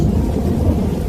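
Steady rain pours down with a deep low rumble of thunder running underneath, continuous and fairly loud, with no voices.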